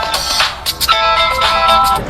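A mobile phone ringtone plays loud and close, a bright repeating electronic melody of short tonal phrases, with no one speaking over it.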